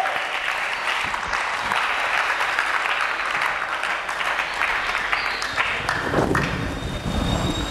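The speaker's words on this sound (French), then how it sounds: "Est-ce qu'on peut acclamer très fort?" A church congregation applauds loudly and steadily, a dense crackle of many hands clapping with some shouts rising near the end, sustained for several seconds.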